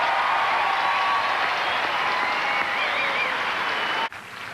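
A stadium crowd at the 1999 US Open applauds Serena Williams, with dense, loud, steady clapping and cheering that holds throughout and then cuts off abruptly near the end.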